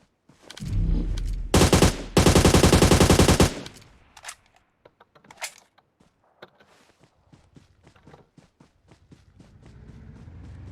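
Automatic gunfire in PUBG Mobile: loud sustained bursts of rapid shots, a short burst then a longer roughly two-second volley, followed by scattered single clicks and footstep-like taps that fade into quieter game ambience.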